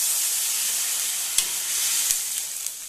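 Water poured into a pan of frying garlic, a steady loud sizzle and hiss throughout with a couple of sharp pops, no voices.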